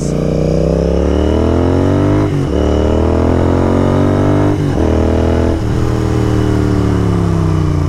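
Royal Enfield-style Continental GT 650 motorcycle ridden on a mountain road, engine loud and close, revving up through gears with three distinct drops as it shifts and pulls again.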